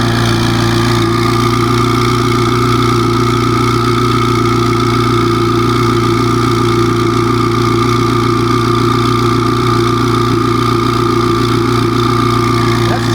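A twin-turbo Corvette C8 Z06 idles close by, a steady loud engine drone with a constant low hum and a faint turbo whine riding above it, unchanging throughout.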